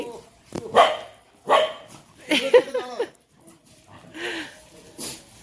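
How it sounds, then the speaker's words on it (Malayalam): Several dogs bark and yip in short bursts, close by, with some whimpering mixed in and a person talking between the barks. "നായകളെല്ലാം കൂടെ ചേർന്ന് ആക്രമിക്കുകയാണേ"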